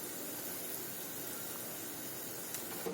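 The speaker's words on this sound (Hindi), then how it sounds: "ग्रेवी में मेरा उबाल आ गया है।" Chicken gravy boiling in a pan on the stove, a steady bubbling hiss with faint pops, close and even throughout with no voice over it.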